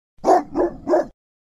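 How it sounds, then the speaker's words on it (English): A dog barks three times in quick succession, loud and close, each bark short and evenly spaced with no other sound around it. "Dog."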